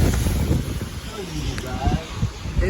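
Strong hurricane wind gusts buffet the microphone in a steady, rough roar during Hurricane Ian in Florida, with a person's voice faintly mixed in.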